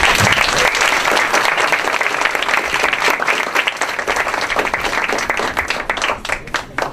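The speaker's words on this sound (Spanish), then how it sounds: "les pediría de nuevo un aplauso" Audience applause after a Spanish-language lecture on economic globalization, loud and dense, with many hands clapping steadily for several seconds, close to the listener, with no talking.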